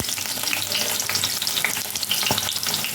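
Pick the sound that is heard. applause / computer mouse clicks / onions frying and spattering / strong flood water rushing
onions frying and spattering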